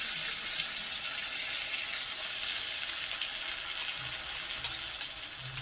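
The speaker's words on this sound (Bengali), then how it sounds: "একটু মশলার কৌটোটাও একটু ধুয়ে দিয়ে দিচ্ছি, কেননা ওখানে আমি জল দিইনি।" A spice container rinsed under running water at a kitchen tap, a steady close hiss and splash that runs continuously throughout, with faint clinks near the end.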